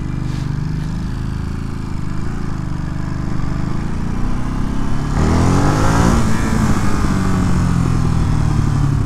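A 2022 Ducati Monster Plus motorcycle engine drones steadily up close, then the revs climb sharply partway through into a louder, rising roar that stays strong to the end.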